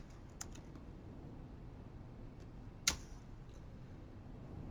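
Soft, sparse computer keyboard keystrokes while entering code, a few light taps and one sharper key press, close and quiet against a faint room hiss with no talking.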